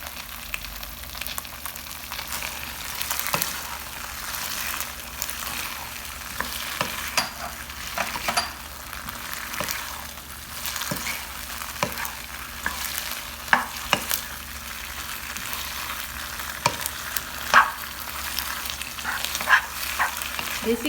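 Chili chicken fries and sizzles in a pan while it is stirred, giving a continuous crackle broken by repeated utensil scrapes and taps, close-up and steady without speech.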